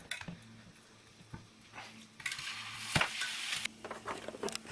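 Chicken portions fry in two pans, a soft steady sizzle broken by clinks and scrapes of a utensil stirring, growing louder midway.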